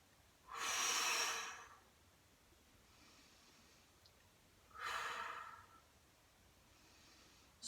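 Deep breathing during an upper body weight workout: two strong, airy breaths about four seconds apart, close and fairly loud against a quiet room.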